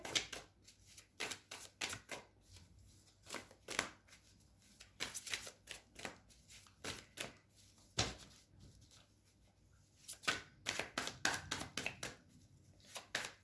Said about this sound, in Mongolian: Би ерөнхийдөө карта ингэж холж аваад гаргадаг. За 3 карт гаргая гэж шийдлээ.